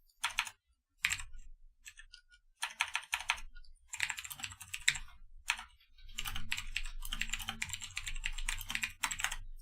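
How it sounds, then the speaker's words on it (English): Quick bursts of computer keyboard typing, close and fairly loud, coming in uneven clusters separated by short pauses before settling into a steady stretch of rapid keystrokes. "What are you typing?"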